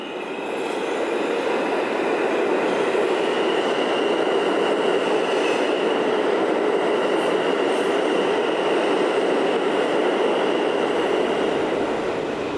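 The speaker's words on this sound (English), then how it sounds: "here's the Brooklyn-bound local train, one station away." An R160 E subway train pulls in with a steady, loud roar of rolling wheels and high metallic squealing, sustained throughout without any talking.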